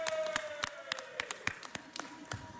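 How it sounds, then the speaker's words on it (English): Sparse, scattered handclaps from a small crowd at a city council meeting, faint and irregular, with no steady applause building. "That deserves a round of applause"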